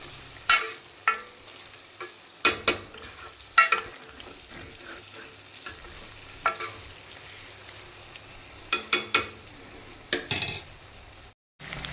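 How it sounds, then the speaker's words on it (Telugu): Tomato and raw mango cook in a pan over medium heat, giving a soft low sizzle broken by repeated sharp clinks and scrapes of a utensil stirring against the pan. "మామిడికాయ, టమాటా వేసేసాను. మీడియంలో పెట్టి బాగా కుక్ అవనిచ్చుకోవాలి."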